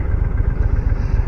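A Honda VTX1300R motorcycle engine rumbles steadily up close, with a low pulsing throb throughout and no voices.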